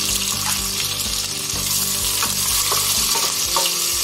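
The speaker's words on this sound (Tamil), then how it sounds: "வெங்காயம் நல்லா வதங்கட்டும்." Onions and green chilli fry in oil for a vegetable biryani, a dense continuous sizzle close up with steady rhythmic spatula stirring and scraping over it, and no talking.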